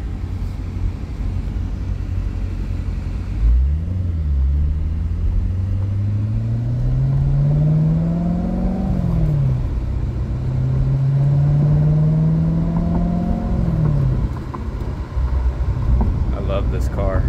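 A 2016 Corvette engine idles with a low rumble, then revs up and down twice in long smooth swells, steady and close, without anyone speaking.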